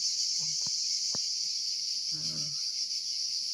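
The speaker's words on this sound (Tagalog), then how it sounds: "Ang maririnig mo lang ay mga ibon, kuliglig." Crickets chirp in a steady, continuous high trill across a quiet mountain place, with a few faint distant knocks and a soft brief murmur underneath.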